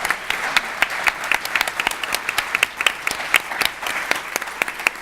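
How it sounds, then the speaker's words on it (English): Steady applause from a large audience, dense claps rolling on without a break for several seconds. "Please give a really warm round of applause for all our fantastic"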